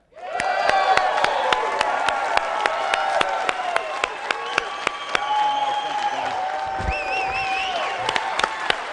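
A live audience applauds and cheers a speaker introduced at a presentation, steady dense clapping filling the room with sharp individual claps standing out, continuing loud for the whole stretch with some crowd voices mixed in.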